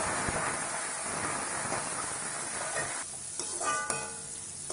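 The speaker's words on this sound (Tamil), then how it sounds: "வெங்காயம் நல்லா வதங்கிடணும்." Chopped onions and curry leaves sauté in a pan for foxtail millet upma, with a dense continuous sizzle and occasional stirring scrapes that thin out slightly toward the end.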